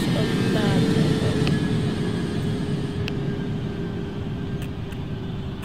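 A jet airplane in the Roblox game Project Flight roars loudly as it passes, a broad rumbling whoosh that slowly fades as it moves away, with no talking.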